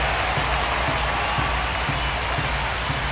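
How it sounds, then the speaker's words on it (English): A ballpark crowd in MLB The Show 25 keeps up a dense, even roar of cheering and applause, a constant wash of noise with no single voice standing out. "You can see the crowd. They're starting to get into it a little bit more and more each pitch"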